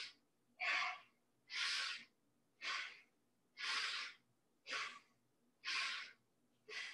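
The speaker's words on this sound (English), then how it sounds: "Inhale, exhale." Deep yoga breaths, inhales and exhales alternating in a steady rhythm about once a second, close and clear in a quiet room with no talking.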